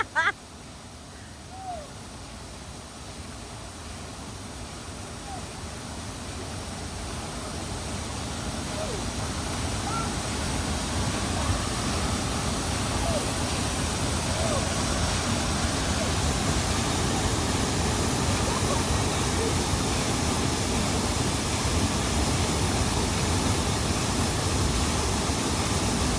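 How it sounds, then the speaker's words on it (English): A waterfall in Kirinyaga County, Kenya, roars as a broad, steady rush that builds louder over the first few seconds and then holds constant, with faint voices barely present beneath it. "So there is another waterfall up this one."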